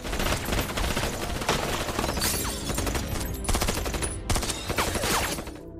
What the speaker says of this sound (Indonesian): mereka pun langsung memberondong Ruby dengan peluru